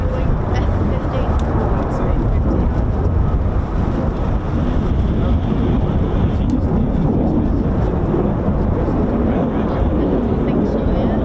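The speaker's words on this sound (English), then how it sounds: "That's the 48 Fighter Wing F-15." F-15 fighter jet of the 48th Fighter Wing at RAF Lakenheath, a loud continuous broadband roar with heavy wind buffeting throughout, steady and close, with voices talking faintly underneath.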